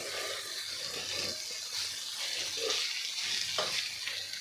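Chopped, seeded tomato goes into a pan of potato and pea curry, giving a faint steady sizzle with light stirring scrapes and no talk.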